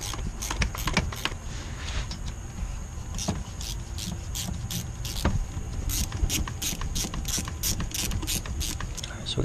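A ratchet runs down valve cover bolts on a 2005 Honda Odyssey 3.5L Touring engine, with rapid, steady clicking that continues without a break, close and clear with no talk.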